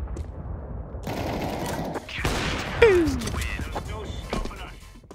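Video game gunfire plays through a mini PC: a quick burst of shots and sharp impacts over a few seconds, fairly faint, with game effects and a brief swooping tone mixed in.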